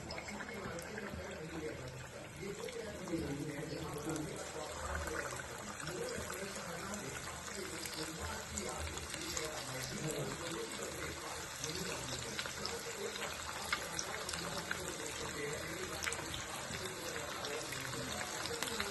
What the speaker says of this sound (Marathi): आपलं तेल चांगलं कडकडीत तापलंय. आता आपण जे मॅरिनेशन केलेले आहे ते लॉलीपॉप घालून घेऊयात.